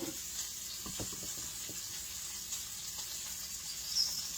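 Sausage sizzling in a frying pan during home cooking: a soft, steady hiss of frying fat with faint scattered pops and utensil clinks.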